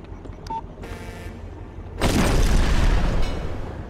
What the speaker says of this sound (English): it's gonna blow him up with the cake of death